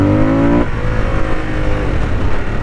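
A Harley-Davidson Sportster S 1250cc motorcycle engine rumbles loudly up close, with a brief rev that drops after a moment into a steady, throaty idle.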